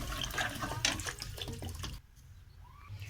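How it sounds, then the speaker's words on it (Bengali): Water poured from a vessel into a pot of bhetki fish curry with potatoes and vegetables, a close splashing gush that stops abruptly partway through, leaving a quiet room. "এখানে একটু বেশি করে জল দিয়ে দিচ্ছি"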